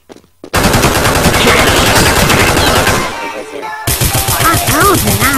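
Rapid automatic gunfire from Counter-Strike 1.6 plays loud and continuous, with a dense burst of shots, a brief dip, then another sustained volley.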